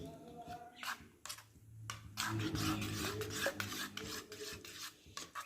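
Gram flour batter with green chillies being stirred and whisked in a bowl, a steady scraping, rubbing sound with occasional clinks of utensil against the pot, close and moderately quiet, no talking.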